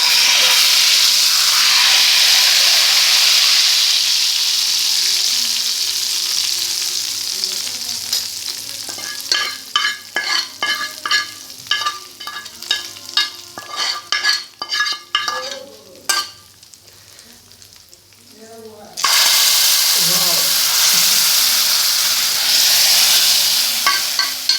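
Tadka of oil and curry leaves for whole masoor dal sizzles and hisses steadily up close, then breaks into sharp crackling pops and spoon clinks in the middle before settling back into a loud continuous sizzle.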